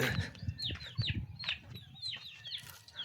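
Chickens on a village farm cluck in short, rising calls several times over a few seconds, close by and fairly quiet, with faint low rustling underneath.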